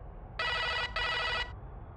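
An old-fashioned telephone bell in a cartoon setting rings in two loud, close bursts of about half a second each, separated by a brief gap and heard alone.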